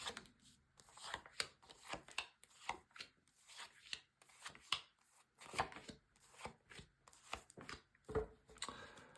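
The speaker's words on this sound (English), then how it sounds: "So first of all, a good shuffle." A deck of tarot cards is shuffled by hand in quiet, close bursts of soft riffling and rubbing, repeating in an uneven rhythm.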